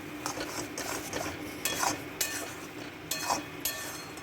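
Spatula stirring a mash of pointed gourd and prawns in a kadai, repeated scraping clinks of metal on the pan in an irregular rhythm, close and fairly quiet over a faint sizzle.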